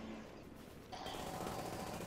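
Sustained, rapid turret gunfire in a video game. It starts quieter, then jumps to a loud, dense, continuous stream of shots about a second in.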